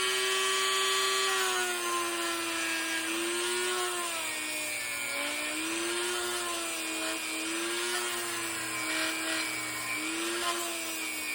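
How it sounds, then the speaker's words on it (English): A steady high-pitched Dremel whine grinds continuously on low speed with a carbide bit, its pitch dipping and recovering slightly as it ports a 440 Mopar V8 cylinder head, close and loud. "let's do a little bit of finesse work with this Dremel"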